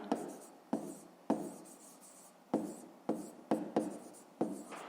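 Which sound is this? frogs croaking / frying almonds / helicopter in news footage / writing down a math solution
writing down a math solution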